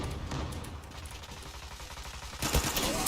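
Rapid gunfire from the online shooter Zula, dense bursts of shots running continuously at close range, with a louder cluster near the end.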